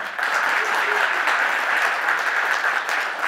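Applause at a party founding convention, as members clap to approve a key policy agenda item, a loud, dense, even wash of many hands that holds steady without a break.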